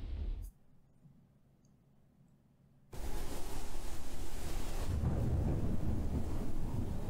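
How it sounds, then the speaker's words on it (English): Storm wind rises in a video game scene: after a brief quiet lull, a loud broadband rushing gust sweeps in and keeps blowing steadily. "It's already windy too."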